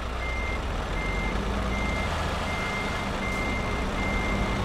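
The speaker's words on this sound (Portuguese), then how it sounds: "Ô Alisson, dá uma ré fortona aí." Steady high-pitched reversing beeps from a truck in Euro Truck Simulator 2, repeating at an even rhythm over a constant low engine rumble, with no talking.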